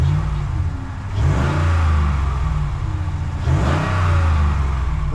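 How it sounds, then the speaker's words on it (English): A Ram 1500 Hemi pickup engine revs twice in two rising surges over a steady idle, with a slight exhaust leak, loud and close. "It does have a little bit of an exhaust leak."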